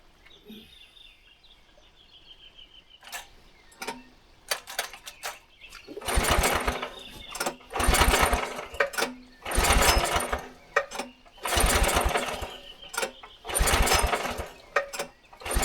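An excavator that has slid into a trench has its engine cranked over and over without firing: several loud, rhythmic churning bursts separated by short pauses, after a quieter stretch with faint birdsong.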